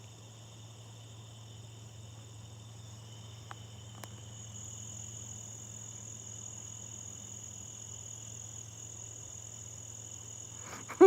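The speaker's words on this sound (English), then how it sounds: "I've got crickets, tree frogs, and cicadas going crazy" Steady night chorus of crickets, tree frogs and cicadas trilling, a continuous high buzzing drone with a low pulsing hum underneath, no voices.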